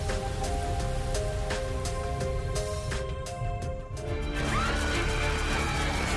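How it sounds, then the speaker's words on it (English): Torrential storm rain pours over a city during a storm that struck Washington, D.C.: a loud, steady, dense hiss lasting throughout, with sustained tonal layers running beneath it. "As well as strong winds, thunder, and lightning, the storm also produced torrential rain."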